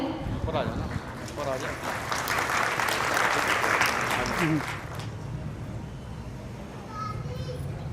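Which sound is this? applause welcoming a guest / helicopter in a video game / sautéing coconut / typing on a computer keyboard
applause welcoming a guest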